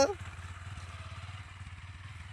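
A motorcycle engine chugs steadily at low idle, a rhythmic putter close by after a short sharp sound at the start.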